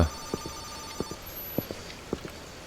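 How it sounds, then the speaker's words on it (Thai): A telephone ringing from upstairs at night, faint and distant, repeating in short paired pulses at a steady rhythm over quiet room noise. "เสียงโทรศัพท์มาจากข้างบนอะ"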